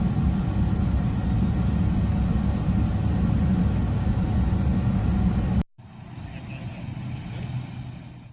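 Lockheed C-130J military transport aircraft landing at night in the eastern sector, flown with night-vision goggles: loud, continuous broadband engine roar that cuts off abruptly, then a quieter, steadier engine rumble follows.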